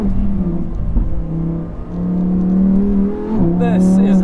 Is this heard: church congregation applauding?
no